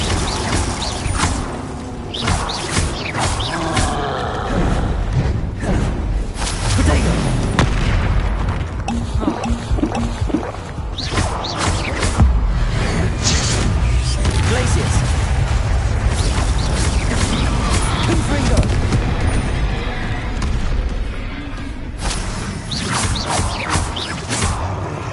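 Repeated Confringo fire spells blasting in combat in Hogwarts Legacy, loud booming bursts over a dense, continuous game-battle din, with a voice briefly heard.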